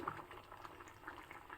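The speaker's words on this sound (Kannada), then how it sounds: "ಆಲ್ಮೋಸ್ಟ್ 10 ನಿಮಿಷದಿಂದ ಇದೇ ರೀತಿ ಕುದಿಸ್ತಾ ಇದ್ದೀನಿ" Tangy South Indian sour curry (huli) bubbles steadily in a pot on the stove, a soft continuous simmering burble with faint pops, quiet and alone.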